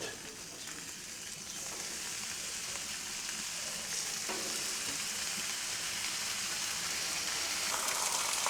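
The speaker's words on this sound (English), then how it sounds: "I'm going to get my bacon on. I'm going to get that on the low side." Bacon frying on a Blackstone griddle over low heat, a steady dense sizzle and crackle that slowly grows slightly louder, with no talking.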